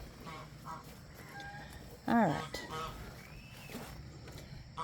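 Honking, quacking calls of fowl nearby, one louder squawk standing out among faint background calls, with a brief spoken remark.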